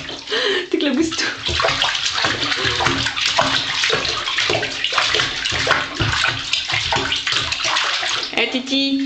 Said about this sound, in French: T'éclabousses tout.